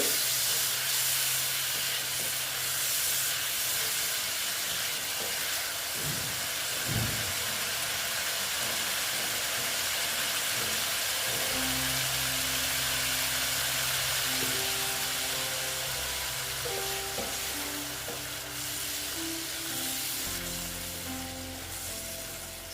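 Spice paste simmers in a pan after a little water is added, giving a steady bright hiss and sizzle that eases slightly toward the end, with faint tonal background hum.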